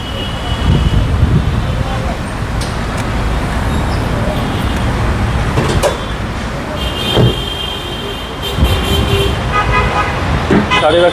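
A Nissan Dayz small car sits running with its air conditioning on, a low, steady engine hum beneath street noise, passing traffic and horn toots, while someone talks over it.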